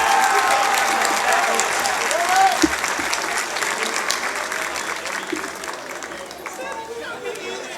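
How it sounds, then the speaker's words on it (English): An audience at a college football homecoming ceremony claps steadily in sustained applause with crowd chatter mixed in, tapering slightly toward the end. "Let's have one big round of applause for all of our fine young ladies"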